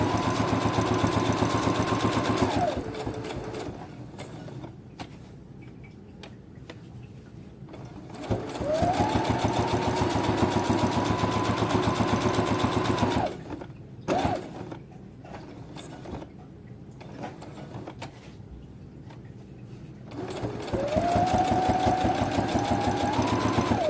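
A Brother sewing machine stitches a fabric face mask in steady, rapid bursts of whirring needle clatter, with three long runs separated by quieter pauses filled with faint handling noise.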